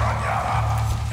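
A dog in the video game Far Cry 6 gives a brief, close, whimpering bark over a low steady hum.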